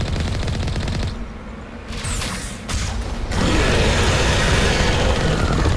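Rapid bursts of heavy cannon fire in Mass Effect Legendary Edition, loud and continuous, growing denser and more sustained toward the end.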